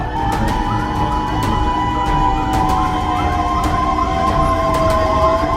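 An ambulance siren wails steadily over heavy traffic noise in Kerala, its pitch drifting slightly, with a rapid series of clicks or knocks running throughout; an Innova car blocks its path.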